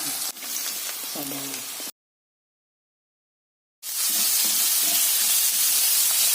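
Onions sautéing in a pan for a chicken curry give a steady sizzling hiss with faint stirring, cut by roughly two seconds of silence before the frying resumes.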